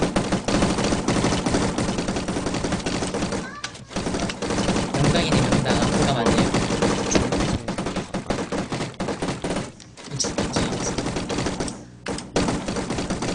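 Continuous rapid automatic gunfire fills a Minecraft zombie survival game, with dense, loud, sustained bursts broken by a few brief pauses.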